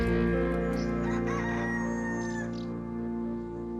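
A rooster crows once, loud and close, its long harmonic call stretching over several seconds on a rural property, with no voices alongside.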